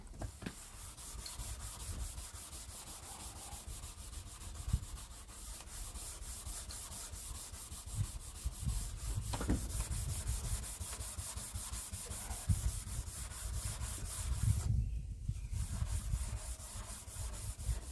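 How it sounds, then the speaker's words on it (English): A soapy steel wool SOS pad scrubbing the aluminum rear finish panel of a 1988–1989 Lincoln Town Car, a continuous close rasping rub in steady back-and-forth strokes that runs nearly unbroken. "Our soapy steel wool SOS pad."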